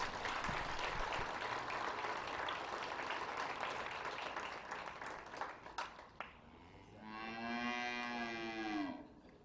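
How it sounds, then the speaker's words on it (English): Faint scattered applause rises from a county fair crowd at a dairy showmanship class, thinning out before a cow moos loudly nearby at the end. "give them a big round of applause"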